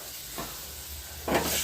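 Chopped peas and eggplant hit hot oil in a pan, giving a soft hissing sizzle with two brief surges of louder crackle, the second stronger, over a quiet steady background.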